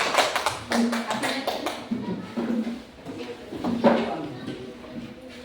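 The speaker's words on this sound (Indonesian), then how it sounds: "bagus, tepuk tangan" Students in a classroom clap in short bursts of scattered hand claps, fairly close, with a gap and a second round later, while voices murmur around them.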